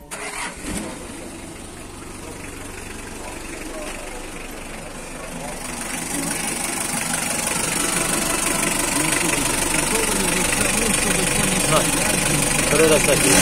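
A 2003 car engine starting and settling into idle, a steady mid-pitched rumble with slight knocking that grows somewhat louder over time, with people talking nearby.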